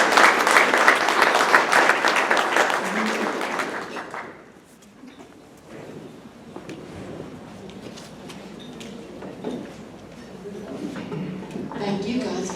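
Audience applause after a Salvation Army thank-you at a Rotary Club meeting, loud and dense for about four seconds and then dropping off, with voices and scattered sounds continuing after.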